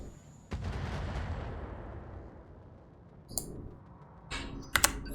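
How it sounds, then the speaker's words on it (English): Mortar fire in the mech combat game Roguetech (BattleTech), a heavy boom at once followed by a long low rumble, then a few faint clicks and sharp distant cracks near the end. "that's the mortars"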